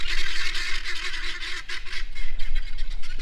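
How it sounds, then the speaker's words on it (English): Guinea fowl calling in a yard, a run of harsh, repeated honking cries close by that come in bursts and keep going throughout. "there's guineas. There's guineas in my yard."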